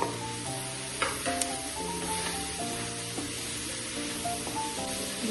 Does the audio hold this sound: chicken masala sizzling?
yes